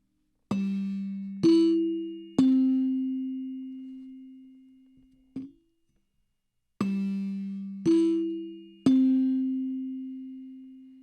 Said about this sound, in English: They released these to be a dinner chime so that you could play them and summon your family to dinner